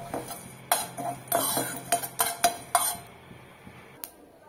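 A spoon scrapes and clinks against a hot pan while timur peppercorns and whole cumin seeds are dry roasted, a quick run of close metallic taps trailing off into a single late clink.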